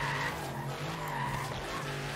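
Car drifting in Forza Horizon 3 with tyres skidding continuously, a sustained squeal over a steady engine drone that holds loud throughout with no talk.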